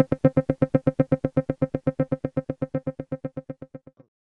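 A phrase-sequencer clip in Mesa+ ADD playing a rapid, evenly spaced train of about thirty short pitched pulses that gradually fade in loudness before stopping, with no voices.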